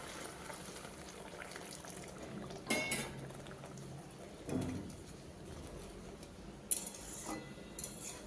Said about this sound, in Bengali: জল ফুটে উঠেছে